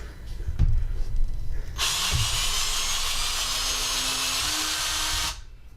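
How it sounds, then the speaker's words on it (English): A power drill whirs steadily for several seconds after a couple of knocks, its motor pitch rising slightly as it bores holes into wood, then stops abruptly. "now we're going to start doing the fun stuff. Drilling holes."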